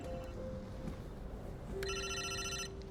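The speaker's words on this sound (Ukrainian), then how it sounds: "Телефон дзвонить." An electronic telephone ringtone starts partway through and rings steadily with bright, sustained tones over a low background hum.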